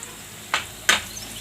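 Green chili and capsicum dropped into a pan of frying onions for masala pasta, two short bursts of sizzle a moment apart over a quiet background hiss.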